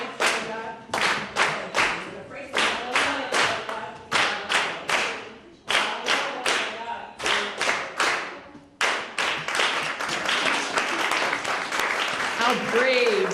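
An audience at a coffeehouse concert claps along in a steady rhythmic beat to a song's chorus, pausing and restarting several times, then breaking into looser continuous clapping near the end.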